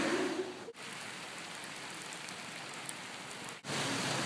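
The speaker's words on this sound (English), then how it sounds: "We've arrived at Mandalay Palace, and it's still raining." Rain falls steadily at Mandalay Palace, a dense even hiss of drops on surfaces that continues without pause, with a couple of brief dropouts in the recording.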